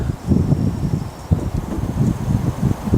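Wind gusts through a budding pussy willow tree on a farm in early spring, making a close, steady rustling rumble with soft buffeting swells and no voices.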